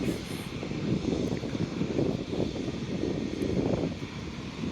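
A Fly Pegasus Airbus A320neo at Manchester Airport: a loud, steady jet engine roar with rumbling low-end turbulence and some wind buffeting, sustained throughout with no talking.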